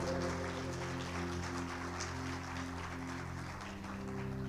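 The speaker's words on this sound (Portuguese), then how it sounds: "Você pode aplaudir bem forte ao Senhor?" A church congregation applauds during a worship service, a dense, steady wash of clapping at moderate level with a low droning organ or keyboard tone sustained underneath throughout.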